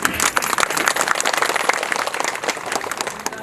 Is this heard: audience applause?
yes